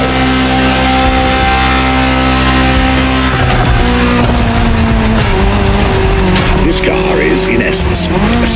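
A Ferrari GTO drives in The Crew Motorfest racing game, its engine droning loud and continuous with shifting pitch, rising revs and brief tire squeal near the end.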